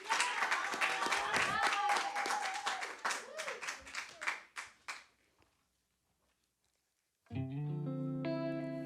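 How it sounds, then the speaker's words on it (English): A small audience claps in a scattered burst that thins out into individual claps and fades to silence, followed by the start of a sustained musical tone during a music vibe session. "y'all already clapping"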